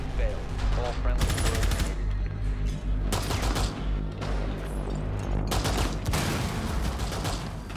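Rapid bursts of video game gunfire rattle in loud clusters, several automatic volleys separated by short gaps, with a voice talking faintly among the shots.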